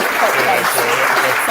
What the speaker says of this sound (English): So, back to round of applause.